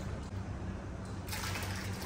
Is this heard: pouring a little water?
yes